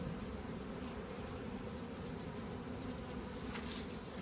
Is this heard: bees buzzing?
yes